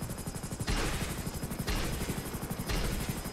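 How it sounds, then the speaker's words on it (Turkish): A helicopter in GTA 5 drones steadily with rapid rotor chop, overlaid by three loud bursts of automatic gunfire at regular intervals, close and continuous throughout. "Son bir tane daha helikopter var."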